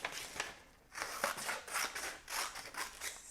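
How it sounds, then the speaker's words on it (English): Scissors cutting out a paper sail for a children's craft: a quiet run of rhythmic snipping strokes, about six or seven crisp cuts in quick succession, close by. "I'm going to cut it out"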